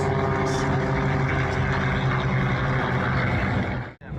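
A propeller airplane at the 2023 Miramar Airshow drones steadily and loudly overhead, its engine hum constant throughout before a brief dip right at the end.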